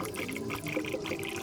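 Coolant glugs and splashes steadily into a funnel on a 1990 Ford Mustang's cooling system, a continuous pouring sound with small bubbling gurgles throughout.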